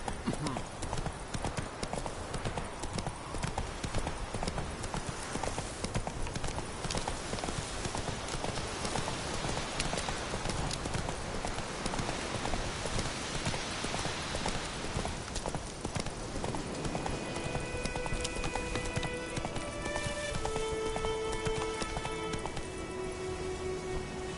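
Roach, Geralt's horse in The Witcher 3, gallops with a rapid continuous clip-clop of hooves throughout, close and steady, with game sounds and brief tones near the end and a voice speaking.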